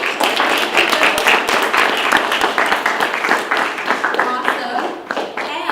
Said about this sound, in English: So everybody, thank you, clap for yourselves.